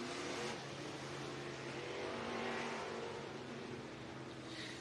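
Race cars in a heat race at Abilene Speedway in Abilene, Texas, heard as a steady, faint, distant engine roar that swells and eases slightly as they circle the track.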